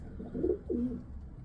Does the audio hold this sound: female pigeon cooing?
yes